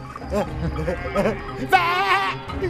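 A sheep gives a loud, wavering bleat near the end, after some low murmured voices and shuffling.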